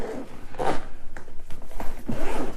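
Zipper running around a drone carrying case for the loolinn Z6 PRO, heard close and loud as several rasping pulls in uneven spurts, with no one talking.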